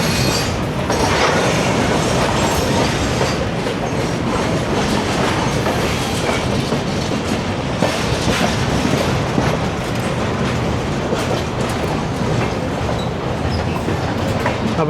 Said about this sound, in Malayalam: അപ്പോൾ അങ്ങനെ നമ്മൾ ജയ്പൂർ സ്റ്റേഷനിൽ നിന്ന് പുറത്തിറങ്ങി.